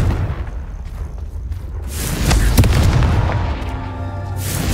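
A Confringo blasting spell from Hogwarts Legacy goes off as a deep, booming explosion that swells and rumbles for a couple of seconds over a low game ambience, with no speech.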